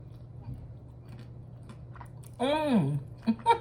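Close-up mouth sounds of someone eating nachos with salad during a Mexican food mukbang, faint soft chewing at first, then a louder burst of wet munching with a short hum-like voiced sound, followed by a few smacking bites.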